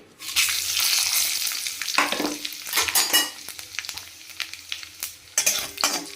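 Bay leaves, dried red chillies and fennel seeds spit and crackle in hot oil for a tempering of urad dal, with sharp popping bursts over an uneven sizzle and a few faint utensil clinks.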